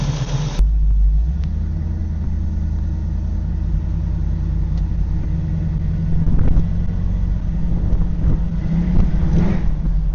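A 500 HP 1968 Pontiac Firebird V8 idles close and loud while warming up, a steady deep rumble with a slight lope and occasional small rises in revs, with no voices over it.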